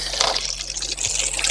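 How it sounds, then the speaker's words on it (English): Water is poured steadily into an egg incubation container, giving a continuous close splashing trickle with no voices. "is pour water in."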